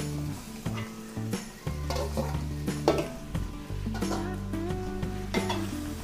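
Chopped pork intestines for bopis are stirred in a hot pan, with close, crackling sizzle and the scrape and clatter of a utensil against the pan in quick, irregular strokes.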